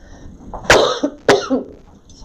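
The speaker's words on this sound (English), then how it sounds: "Sorry, I have this cough." Two sharp coughs, close and fairly loud, separated by a brief pause, followed by a short throat sound.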